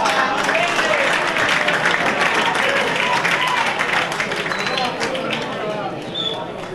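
Applause and crowd noise from spectators at an amateur football match between Palizzi and Bovese, a steady broad wash of clapping and murmur with faint voices mixed in, holding loud throughout and easing slightly near the end.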